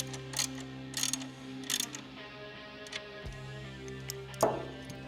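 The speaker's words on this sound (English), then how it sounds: "And then go ahead and tighten them down." Socket or wrench ratcheting and light metallic clicks while bolting Hogworkz color-matched mid-frame air deflectors onto a 2023.5-or-later Harley touring motorcycle, with a steady machine hum underneath and a few brief tool ticks.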